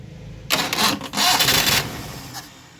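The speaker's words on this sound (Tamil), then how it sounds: "இப்போ இந்த வண்டியை வந்து ஸ்டார்ட் பண்ணி காமிக்கிற பாருங்க" A flood-damaged Maruti 800 car is cranked with its self-starter in two close, loud mechanical bursts, followed by a faint trailing tail.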